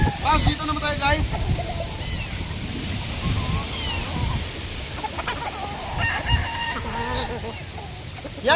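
Gamefowl roosters cluck and crow repeatedly in short, scattered calls over a constant rushing background, with people talking nearby.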